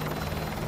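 Helicopter rotor noise from the video game Modern Warfare 2 Remastered, a steady, dense, close thrumming drone with no talk, lasting less than a second.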